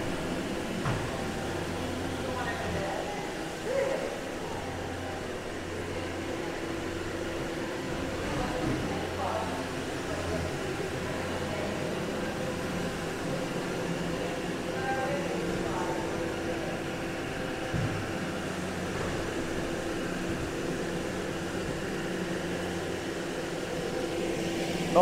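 An SC250 sweeper scrubber dryer runs steadily across a commercial floor on a single cleaning pass, its continuous motor and brush drone loud and unbroken throughout.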